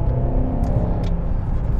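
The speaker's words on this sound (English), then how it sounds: "Have a bit of an accelerate going up to 40." BMW X5 V8 engine accelerating on the road, a steady low rumbling drone with rising revs, heard from inside the car at moderate volume without talk.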